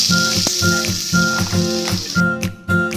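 Steady hissing sizzle of kare-kare ingredients sautéing in a hot frying pan, with a broad bright crackle running throughout and a few sharp clinks of a utensil.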